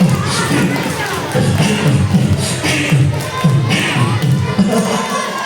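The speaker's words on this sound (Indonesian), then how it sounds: "Mana tepuk tangannya?" Children clapping and shouting at an Islamic New Year school event at SDN Jomblang: an energetic, close crowd of young voices cheering in bursts over scattered claps, shuffling feet and thumps.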